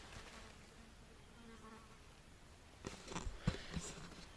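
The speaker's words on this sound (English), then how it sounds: "there's a fly right next to the camera, you can probably hear it buzzing away" A fly buzzes close by at a bushcraft camp fire pit, a faint steady drone over outdoor background, with a few louder knocks and rustles near the end.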